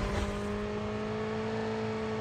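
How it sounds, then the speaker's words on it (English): A motorcycle engine drones in Call of Duty Mobile battle royale, its steady, close hum holding one pitch throughout with no voices. "I'll pick you up in a motorcycle"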